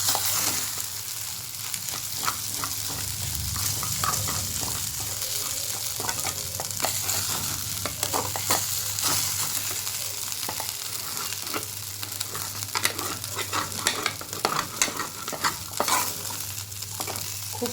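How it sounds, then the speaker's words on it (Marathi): Crushed peanuts sauté in a pan for corn chivda, a steady close sizzle with continual stirring scrapes and clicks running throughout, and no voices. "1-2 चमचे तरी शेंगदाण्याचा कूट घालायचा आणि छान परतायचं आहे"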